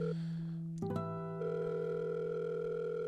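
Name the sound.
telephone ringing tone on a call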